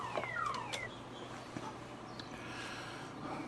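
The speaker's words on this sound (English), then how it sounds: "His car alarm keeps going off." Car alarm sounding from a vehicle parked across the street, heard at a distance as faint repeating electronic tones and sweeping chirps over steady low background hum, with no talking.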